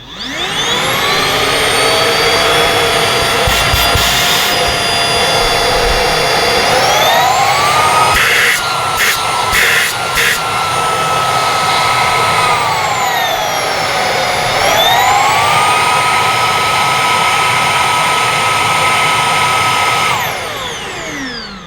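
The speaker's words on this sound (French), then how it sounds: "ils annoncent 75 décibels, ce qui correspond au bruit d'un aspirateur" A Xiaomi Roidmi F8 handheld cordless vacuum cleaner, rated at 75 decibels, whines loudly and continuously up close, its pitch dipping and rising as the motor changes speed.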